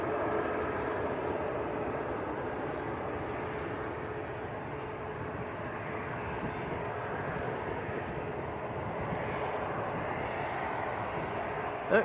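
Airbus A321 airliner arriving at Manchester Airport, a steady broadband engine roar heard from some distance that holds constant and swells slightly over about twelve seconds.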